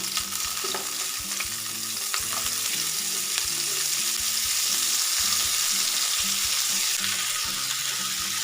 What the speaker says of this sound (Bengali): এবার মাছ ভাজা তেলে দিয়ে দেব রাঁধুনি ফোড়ন কেটে রাখা শাপলা দিয়ে দিলাম